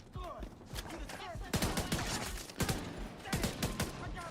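Gunfire in The Division 2, bursts of rapid shots in several clusters under a steady game background, fairly close and moderately loud.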